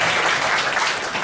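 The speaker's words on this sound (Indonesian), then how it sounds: "Kita berikan tepuk tangan." Church congregation clapping together during a worship service, a dense, steady wash of applause close by and fairly loud throughout, with no clear speech over it.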